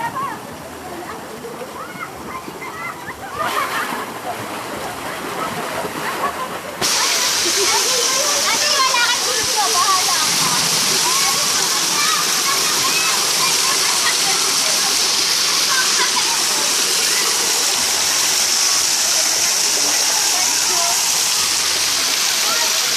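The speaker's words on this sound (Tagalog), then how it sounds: "Fountain." A water fountain at a resort pool gushes in a steady, loud wash of splashing that swells fuller partway through, with voices talking over it.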